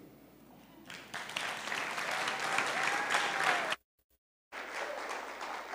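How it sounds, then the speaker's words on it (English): A theatre audience applauds at a live comedy event, sustained dense clapping close and loud, cut by a brief dropout of silence before the clapping resumes. "Applaud, applaud."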